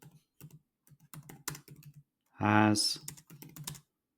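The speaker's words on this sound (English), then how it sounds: "So we'll type into here" Computer keyboard typing a question into a search field: quick bursts of soft, close key clicks in an irregular rhythm, broken by a brief spoken word in the middle.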